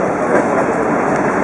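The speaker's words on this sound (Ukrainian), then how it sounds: "поїзд." A passenger train rumbles steadily from inside a carriage, with a dense, loud, continuous roar that holds without a break.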